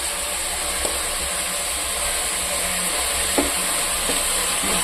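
Ginger garlic paste frying in a pan for a Tamil parotta salna, a steady loud sizzle that runs throughout with a few faint clinks of stirring.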